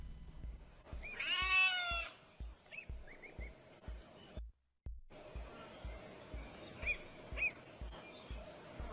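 A cat meows in a clear, rising-and-falling call near the start while ducklings are around, followed by a few faint chirps and soft peeps over a quiet indoor background with a steady ticking rhythm.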